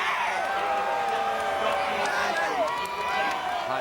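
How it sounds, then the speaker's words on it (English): Racetrack crowd at the Kentucky Derby applauding and cheering a winning jockey, a broad, steady roar of distant voices under a commentator talking over it. "The fans applauding him."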